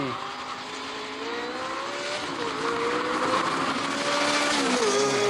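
An early lead-acid electric car races a Ferrari 348, with a high whining drivetrain tone and roaring engine pitch climbing in steps through gear changes, moderately loud and steady with faint tire noise.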